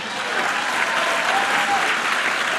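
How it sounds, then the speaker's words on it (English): Steady, full applause from a large dinner audience at the White House Correspondents' Dinner, a press gathering in a banquet hall; the clapping is continuous and even, with no voices standing out. "50 years of SNL, we can applaud for a moment."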